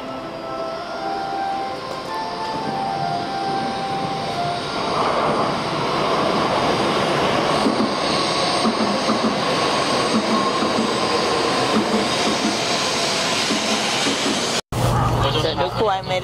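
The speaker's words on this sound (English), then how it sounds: "the next arriving train is the one I'm gonna be on" A train pulls into a station in Hiroshima, Japan, with a loud, steady rumble of rolling cars and high wheel squeal that builds and holds close by for the whole stretch, then breaks off briefly near the end.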